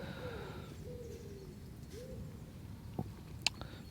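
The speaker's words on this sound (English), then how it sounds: "The only thing you can hear is the pigeons cooing and me talking" Soft cooing of pigeons in quiet morning woodland, a few low drawn-out calls at a distance over faint background hiss, with a couple of small clicks.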